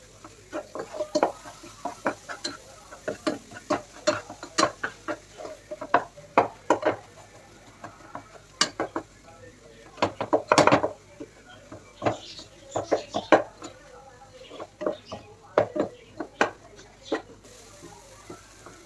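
Chicken curry with tomato gravy is stirred in a pot, heard as irregular close knocks and scrapes of a spoon against metal, repeating unevenly over a quiet background.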